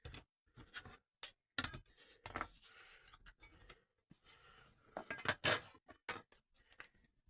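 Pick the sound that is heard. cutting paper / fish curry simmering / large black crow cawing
cutting paper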